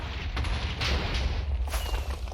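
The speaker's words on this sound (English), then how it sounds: "A chunky explosion." A TNT blast in the Minecraft video game sounds as a dense, rumbling boom that stays loud and sustained for the whole stretch, with crackling debris noise and no voices.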